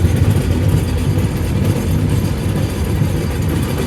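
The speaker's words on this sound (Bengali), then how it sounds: "যমুনার এখান দিয়ে রেল আস্তে আস্তে চলতেছে" A train crosses the Jamuna bridge slowly on a Dinajpur–Dhaka journey, producing a continuous, heavy low rumble with a dense rattle of wheels and carriages, loud and close, with no talk.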